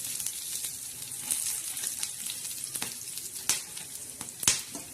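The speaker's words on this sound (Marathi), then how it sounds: "आता हे धने बाजूला केल्यानंतर आपण हा खडा मसाला टाकणार आहोत." Whole spices (khada masala) roasting in a pan, giving a soft, steady sizzle with scattered small pops and crackles, two sharper snaps near the end, close and fairly quiet.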